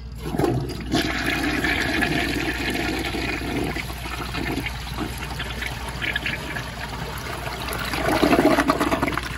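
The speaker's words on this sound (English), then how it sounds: "But yeah, here's another flush." A loud flush of a 1977 round Vitromex siphon jet toilet with an overfilled tank, a strong rushing swirl of water that continues steadily, then surges and gurgles again near the end.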